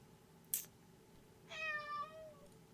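A house cat gives a single drawn-out meow with a clear harmonic tone, faint and near, heard over a quiet room hum after a brief click.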